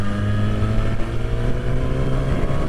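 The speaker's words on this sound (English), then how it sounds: "engine note on the Katana is so addictive, you can't help but wind her up a little bit" A Suzuki Katana motorcycle engine being revved on a wet road, a loud, close, steady engine drone with a rising and falling tone throughout and no talk.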